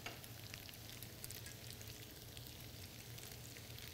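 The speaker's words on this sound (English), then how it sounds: "We're going to dump the pasta in." Drained organic pasta tumbles into a pan of cooked vegetables, setting off a soft, continuous sizzle and stirring hiss that stays quiet and even throughout, with no voices.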